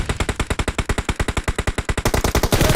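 Rapid automatic gunfire in a battle royale video game, a fast, loud burst of evenly spaced shots lasting nearly three seconds with no talk over it.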